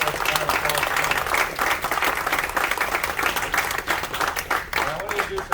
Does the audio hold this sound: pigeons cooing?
no